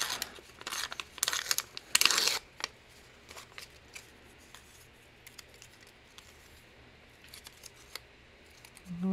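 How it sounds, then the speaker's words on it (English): Paper is torn off by hand for a journal page: a cluster of quick rips and crinkles up close, then quieter intermittent rustling and handling. "I'll tear some of this off."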